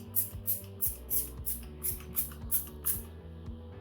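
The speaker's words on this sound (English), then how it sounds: "the second step is to take some canola oil, just a few squirts of it." Canola oil is squirted onto a cast iron skillet in about ten quick, sharp spray bursts spaced evenly, close up, each with a faint mechanical click of the bottle pump.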